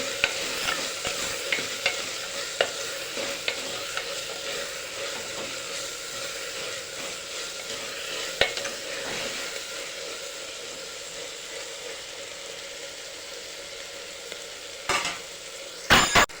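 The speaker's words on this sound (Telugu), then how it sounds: "ఇవి ఒక రెండు నిమిషాలు వేగితే సరిపోతాయి" Black-eyed peas frying in a pan with steady close sizzling and repeated scraping stirs, a louder clatter near the end; no talking.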